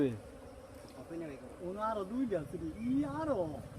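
Bees buzz around a honeycomb, a faint, steady drone sitting underneath someone speaking close by throughout.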